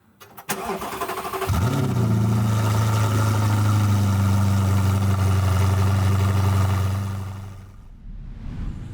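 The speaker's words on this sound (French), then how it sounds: "Le cold start, je trouve, avec cette voiture, c'est le plus impressionnant." An Audi R8 V8 cold start: a starter crank catches into a loud bark and flare, then settles into a high, steady, throbbing fast idle held close for several seconds before the revs drop away near the end.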